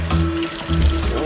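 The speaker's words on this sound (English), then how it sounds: "you're going to wash off this potato over your kitchen sink" Water from a kitchen sink tap runs steadily over a potato being rinsed, a close, continuous splashing trickle with a low hum underneath, heard briefly on its own.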